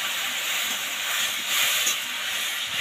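Water poured into a hot pan while cooking, giving a continuous loud, close hiss of steam that swells slightly partway through and holds steady to the end.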